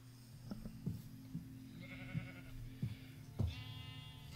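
Sheep bleat repeatedly in a Minecraft farm field, a handful of short nasal calls at irregular intervals over a low steady hum, with no talking.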